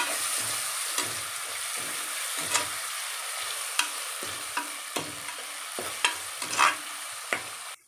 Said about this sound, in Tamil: சால்ட்டு போட்டுட்டு நல்லா இதை வதக்கி விடுவோம்